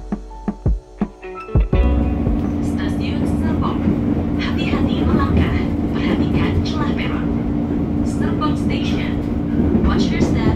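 A KRL commuter train on the Green Line out of Tanah Abang rumbles steadily from inside the car, a loud continuous roar of wheels and motors following a few sharp knocks at the start, with a voice heard.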